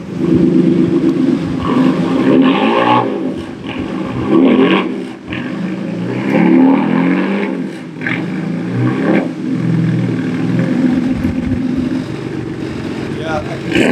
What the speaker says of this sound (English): I never realized how loud my car is until I let somebody else drive it.